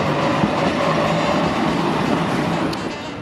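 A tram rolling past at a city tram station, a loud continuous rumble of wheels on rails with faint clacking that eases slightly toward the end, with no talking.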